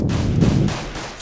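A single loud, close gunshot fired in Counter-Strike: Global Offensive during a headshot kill, one sharp report with a short booming tail.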